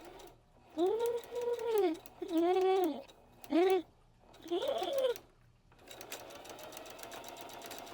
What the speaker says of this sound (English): I'm just going to drop it back down and continue sewing